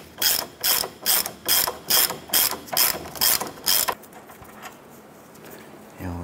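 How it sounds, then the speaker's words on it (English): A ratchet loosening and removing a nut on the ball joint of a 2008-2012 Honda Accord, heard as about eight quick, evenly spaced bursts of loud clicking, then a quieter pause with faint handling noise. "Go ahead, loosen and remove that nut."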